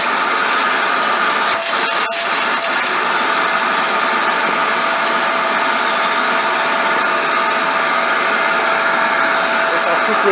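A VEVOR ash vacuum cleaner runs with a loud, steady motor whine and airy suction roar, a few brief clatters near the start, and no voices.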